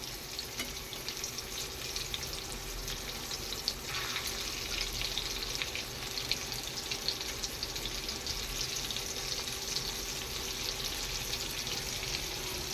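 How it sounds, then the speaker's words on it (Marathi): Surmai fish frying in a pan after being flipped gives a steady, fairly quiet hiss of hot oil that runs unbroken throughout, with no speech. "मच्छीला आता दुसऱ्या साईडने पलटी करून घेऊया"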